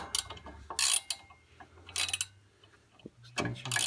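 A ratchet clicks in short bursts while tightening a bolt during a brake job on an Iroc-Z, with quiet pauses between the quick metallic ratcheting strokes, close and fairly soft.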